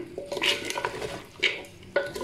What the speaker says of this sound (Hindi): भूनते हुए थोड़ा थोड़ा पानी ऐड करते जाएं।